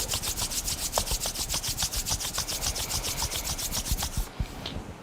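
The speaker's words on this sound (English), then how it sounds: "rubbing the hands together." Hands rub briskly together in a quiet yoga setting, a close, soft rasping swish repeated in an even rhythm of about a dozen strokes before stopping.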